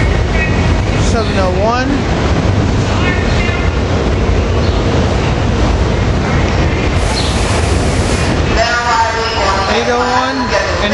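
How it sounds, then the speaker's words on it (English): SEPTA Silverliner V railcars pull out of 30th Street Station at rush hour, giving a loud, continuous rumble of rolling stock with rising and falling motor whine, and someone talks over the noise. "Here we got the new Silverliner V's going to Elm Street, Norristown via Center City with the Railcars 803, 804,"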